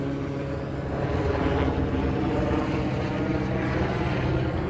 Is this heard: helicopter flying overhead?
yes